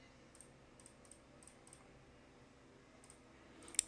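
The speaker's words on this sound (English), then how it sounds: "Let me know in the comments if my clicking's too loud" Computer mouse clicking during a Yu-Gi-Oh card game session, a sparse string of crisp, faint clicks spaced irregularly over a quiet background, ending in a louder burst of handling noise.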